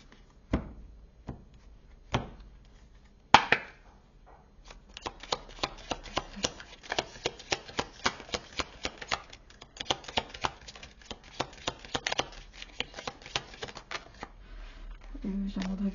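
Oracle cards riffled and shuffled for a tarot reading, a dense run of quick papery flicks and slaps after a few separate taps, close by and steady, with someone speaking softly at points.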